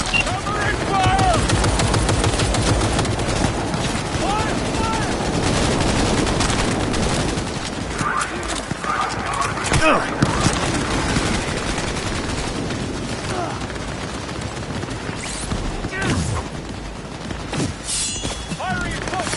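Heavy gunfire rattles through a Cyberpunk 2077 firefight, with dense bursts of automatic fire early on and sharper scattered shots later, loud and close, while voices talk over the shooting.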